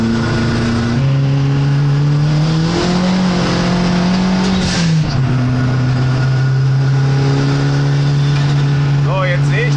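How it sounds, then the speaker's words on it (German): An Abarth car engine running close and loud, holding a steady drone with a rising rev and a brief dip in pitch midway, then settling back into a sustained hum. "Ah, dieser Sound von dem Auto ist einfach immer wieder geil."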